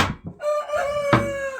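An Orpington rooster crows once up close, a loud, sustained, strongly harmonic cry preceded by a couple of short clucks, with a brief overlapping squawk partway through.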